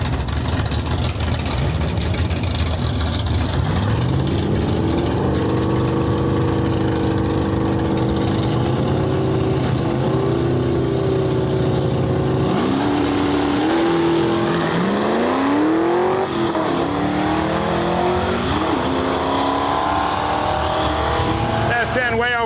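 Heads-up drag racing in Western Canada, with an S10 pickup and a red Fox Body Mustang running side by side. Loud engines rev and climb in pitch through the gears, a continuous roar with an announcer's voice over it.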